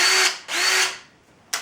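A cordless drill whirs in two short bursts, its motor spinning up and winding down, followed by a brief third burst at the end; close and loud with no talking.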